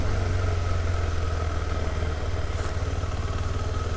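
A KTM 390 Adventure motorcycle engine runs steadily at low revs during slow U-turn practice, a close, continuous throb with wind rush and no voices.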